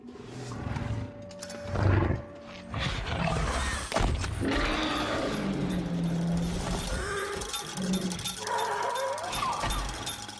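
A dragon roars in a dark fantasy film scene, deep guttural bellows and growls rising and falling over a rumbling, chaotic background, loud and sustained.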